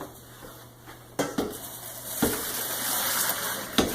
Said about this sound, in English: Let's go ahead and strain our noodles.